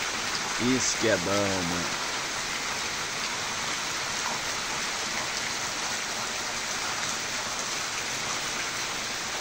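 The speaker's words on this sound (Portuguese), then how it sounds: "Ótima chuva abençoada, bem mansinha." Gentle, steady rain patters softly and evenly throughout, with someone speaking briefly at the start before the soft downpour continues alone.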